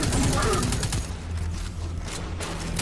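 Rapid bursts of gunfire in the video game Destiny 2, loud and continuous across the whole stretch, layered with heavy game sound effects and a low rumbling bed.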